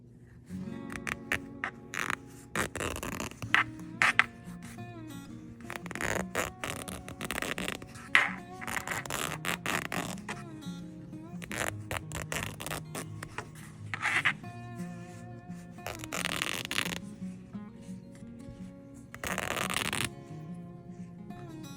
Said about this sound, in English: We're going to see just how long it takes me to rip out 2 jelly roll strips that were sewn